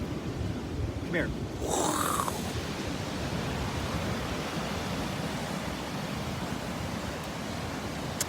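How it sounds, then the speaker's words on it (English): Ocean waves breaking on a beach at Mazunte at sunset: a steady, loud broadband roar of surf continuing throughout, with a brief voice near the start. "You guys want to see the waves?"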